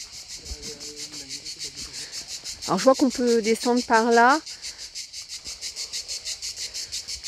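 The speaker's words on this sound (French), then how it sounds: "Écoutez ces cigales." Cicadas at the Maupas calanques on the Corniche d'Or near Cannes buzz in a steady, loud, rapidly pulsing drone throughout, with someone speaking briefly over it in the middle.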